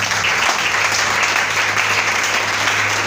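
Church congregation applauding and cheering to acclaim God during a French-language service, steady loud clapping from many people that fills the room without break.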